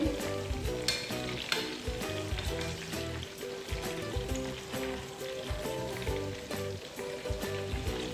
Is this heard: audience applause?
no